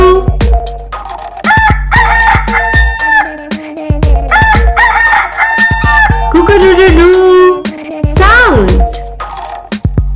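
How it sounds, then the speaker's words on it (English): A rooster crows loudly and repeatedly, each call rising and falling, mixed with clucking from nearby fowl and layered under an accompanying voice. "Rooster. Rooster. Cook-a-doo-doo-doo."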